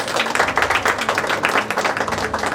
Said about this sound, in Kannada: ಒಂದ್ಸಲ ಚಪ್ಪಾಳೆ ಅಭಿನಂದನೆ ನಾವು ಸಲ್ಲಿಸಬೇಕು